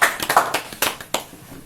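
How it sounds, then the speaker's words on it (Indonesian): A small group claps at an Indonesian coffee-talk gathering on a morning market, a short burst of uneven hand claps that thins out and fades within a couple of seconds. "Tepuk tangan dulu untuk teman-teman kita ini."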